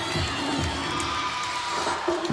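A home crowd at a women's gymnastics championship cheers and whoops loudly and steadily, with a few higher shouts rising above the roar.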